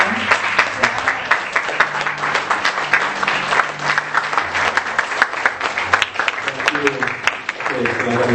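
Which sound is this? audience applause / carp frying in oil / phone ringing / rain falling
audience applause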